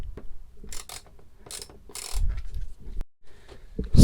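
A spanner ratchets in short, close clicking bursts during repairs aboard a sailing boat, with scattered knocks and handling noises between the bursts.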